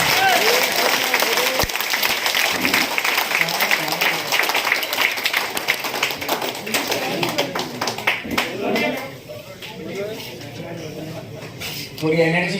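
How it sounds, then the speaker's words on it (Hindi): Loud applause from a crowd at a large gathering, many hands clapping in a dense, sustained roar that thins out toward the end, with a voice speaking over it. "बीसी सर के लिए जोरदार तालियां।"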